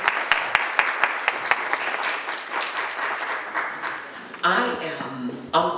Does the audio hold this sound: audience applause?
yes